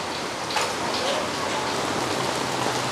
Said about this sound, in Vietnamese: Đây ngoài trời mưa không khiếp luôn mọi người.